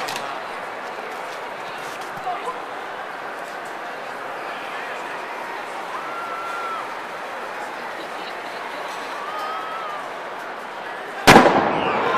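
A trash can explosion goes off as one sudden, very loud blast near the end, after a long stretch of steady outdoor background noise.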